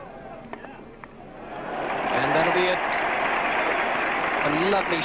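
A cricket crowd at a 1980 England v West Indies Test match applauds a batsman reaching fifty, a broad swell of distant clapping that rises after a quiet start and continues under a commentator's voice.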